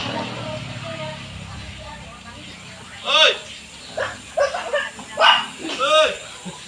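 A dog yips and barks in a few short bursts partway through, near and moderately loud, while a person talks over a steady background hum.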